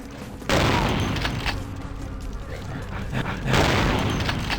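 Shotgun fire in Vampire: The Masquerade – Bloodlines, two heavy booming blasts a few seconds apart over a continuous rumbling din of combat.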